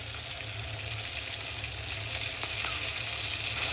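Garlic paste sizzles in hot oil with fried onions and sliced green chillies, making a loud, even hiss with light stirring scrapes close by and no voices.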